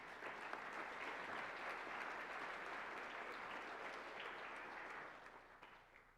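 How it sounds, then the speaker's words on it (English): An audience at a university athletic hall of fame dinner applauds award winners with sustained, dense clapping that fills the room, then thins and fades near the end. "A round of applause for them, please."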